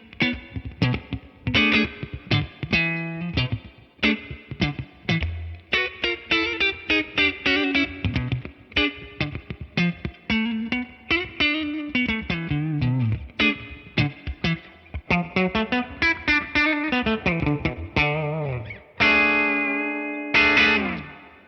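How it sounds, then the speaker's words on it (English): An electric guitar runs through an Imperial reverb pedal on a worship pedalboard, playing clean picked melodic phrases with lush, drippy reverb tails, loud and close, with a sustained chord ringing out at the end. "And all that reverb is coming from the Imperial itself."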